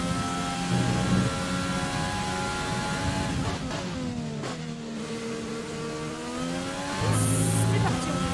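Race car engine roaring around a track in the F1 2020 game, rising and falling through gear shifts with sweeping pitch changes, loud and steady, with a brief tire squeal near the end and no talk.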